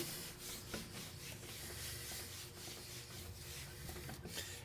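Meguiar's wax cleaner is rubbed by hand onto a surface before fiberglass work on R/C boxes, a steady, faint, soft scrubbing with rhythmic strokes and no talk.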